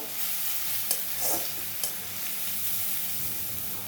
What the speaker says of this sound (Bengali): রসুনটা হালকা বাদামি কালার করে নেবো